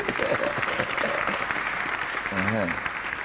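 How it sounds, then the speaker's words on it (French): An audience at a meeting of church ministers applauds in a continuous, fairly loud wash of clapping. A voice calls out briefly near the end over the steady clapping. "Applaudissons pour eux."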